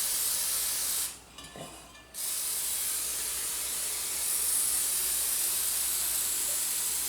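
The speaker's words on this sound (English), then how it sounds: "you also want to even make sure you spray the edge a little bit" Cooking spray hisses into a cake pan in a kitchen, a steady close aerosol spray that pauses briefly for about a second before resuming for several more seconds.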